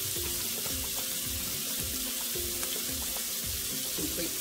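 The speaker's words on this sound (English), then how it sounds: "We're just going to saute these together." Butternut squash sautes in a pan with a constant close hiss and crackle, a steady sizzle with faint scraping and stirring underneath and no voices.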